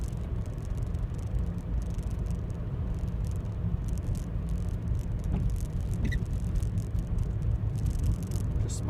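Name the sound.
car driving in fourth gear at 29 mph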